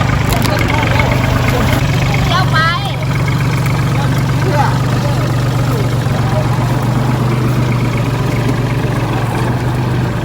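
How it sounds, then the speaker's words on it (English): A tractor engine idles with a steady low rumble on a cassava farm in rural Isan, Thailand, loud and continuous, with faint outdoor background noise. "So the tractor is getting ready now."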